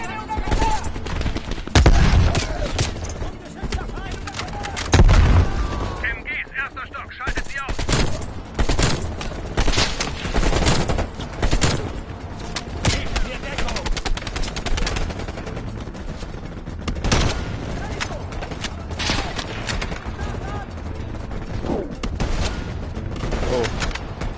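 Rapid gunfire rattles through a Call of Duty Black Ops Cold War match on PS5, loud sustained machine-gun bursts and repeated shots almost without pause, with game voices talking underneath.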